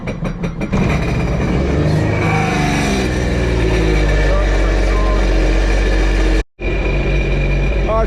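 A cold Sea-Doo 4-stroke jet ski engine that hasn't run in a while idles steadily and loudly up close during fresh-water flushing, with a brief cutout near the end and voices present.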